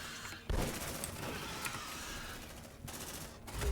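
Sustained automatic gunfire from squad weapons in the video game Aliens: Dark Descent, a dense unbroken rattling barrage that fills the clip with only brief dips, loud and up close.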